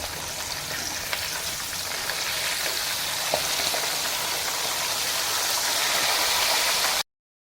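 A whole chargha chicken sizzles in hot oil, a steady dense crackle and hiss that holds evenly and close for about seven seconds before cutting off abruptly.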